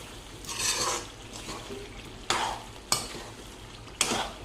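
Chicken pieces fry in hot oil for gongura chicken curry, a soft steady sizzle punctuated by several loud bursts of crackling as the pieces are stirred and turned, close and without talk.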